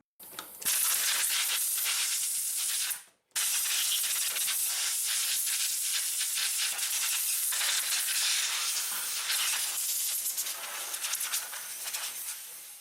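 A pneumatic blowgun fed by a repaired air compressor releases a loud, steady hiss of compressed air in long blasts, cut by one brief pause early on, then resuming continuously up close.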